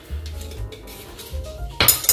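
Bread dough ingredients, a kilo of base flour with salt, stirred together in a bucket for Swiss-style brioche pull-apart bread, giving soft scraping and low thuds, then a sharper clinking burst near the end.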